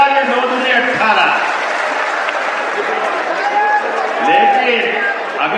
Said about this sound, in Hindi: जोरदार ताली बजा के 9 दूनी 18